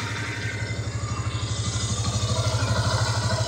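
A Yamaha FZS V2 motorcycle engine with 40,000 km on it idles steadily with a rapid, even low thumping pulse, close by and constant throughout.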